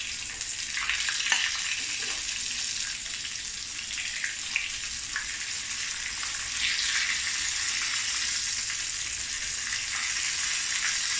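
Slices of pointed gourd (potol) frying in hot oil, a steady close sizzle running throughout with a few brief crackles and no voices.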